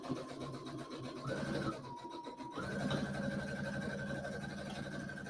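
A sewing machine stitches fabric, set for a back stitch, running in a steady mechanical whir with a brief pause, then resuming with a higher pitched, continuous hum at moderate loudness.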